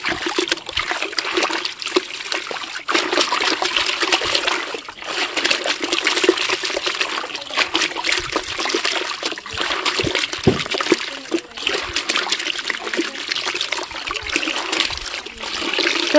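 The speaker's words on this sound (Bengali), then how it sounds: "আমি এগুলোকে ধুয়ে নেব এখন।" Leafy greens are washed under running tap water at an outdoor tap, with a steady, close trickle and splash that continues throughout, with brief bursts of splatter as the leaves are handled and no talking.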